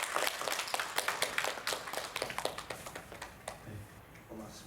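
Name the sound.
applause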